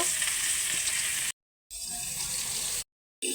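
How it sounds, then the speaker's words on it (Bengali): Rohu fish pieces fry in hot oil in a wok with a steady, loud, close sizzle that breaks off twice into short silences. "দেখুন লাল লাল করে ভেজে নিচ্ছি ভালো করে"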